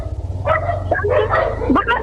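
Several dogs bark and yip in quick overlapping bursts nearby, over a low steady engine rumble.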